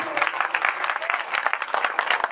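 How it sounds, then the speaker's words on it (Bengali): An audience applauding at a Hindu deity installation ceremony, with dense, steady clapping from a crowd that is fairly close and keeps an even level throughout. "সবাই করতালি দিয়ে উৎসাহ জানাবেন"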